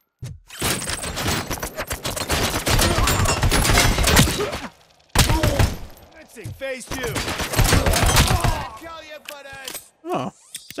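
Rapid gunfire from a weapon in the shooter game RoboCop: Rogue City rattles in loud, dense bursts, broken by short pauses and clanking hits, with game effects filling the gaps.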